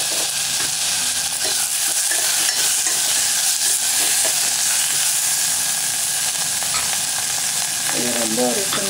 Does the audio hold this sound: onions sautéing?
yes